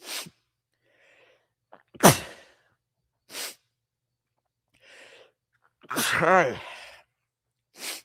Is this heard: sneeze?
yes